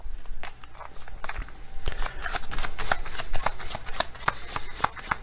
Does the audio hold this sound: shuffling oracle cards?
yes